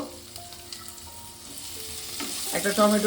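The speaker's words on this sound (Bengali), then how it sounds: "মানকচুটা আমি মিনিট 2-3 একটু ভালো করে ভেজে নেব" Taro and tomato frying in oil in a pan, a steady close sizzle with stirring and scraping, swelling louder near the end as the tomato goes in.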